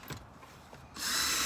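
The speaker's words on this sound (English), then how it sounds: "I'm going to drill holes on the bottom of this bucket and all the way around." Power drill boring holes into a plastic bucket for a tomato trellis, a few faint knocks of handling followed by the drill spinning up into a loud, close, steady whir in the final half second.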